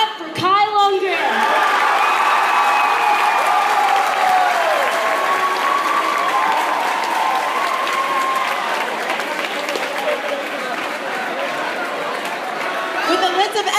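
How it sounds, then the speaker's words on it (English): A large audience at a dance competition applauds steadily for over ten seconds, with cheers and whoops rising above the clapping and a voice speaking at the start and end. "Let's give it a golf clap for Kyle Lundgren."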